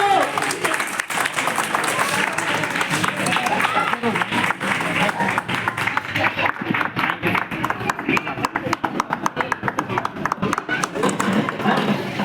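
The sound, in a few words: children applauding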